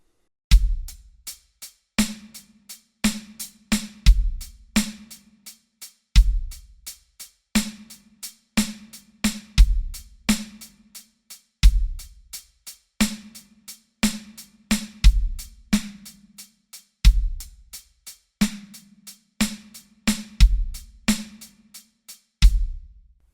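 A slow funk groove on a drum kit. Kick drum thumps land on beats one and three-and, crisp snare backbeats and light hi-hat ticks fill in around them, and the pattern repeats steadily, close and clear with no talking.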